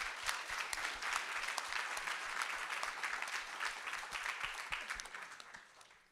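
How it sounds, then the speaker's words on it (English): An event audience applauds continuously, many hands clapping in a steady, fairly distant wash with a few sharper nearby claps throughout. "let's give a big applause to them"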